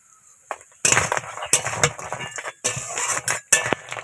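Crabs dropped into a hot pan for Bengali-style crab curry, giving a series of sharp clattering, clinking impacts with bursts of sizzling between them, close and fairly loud.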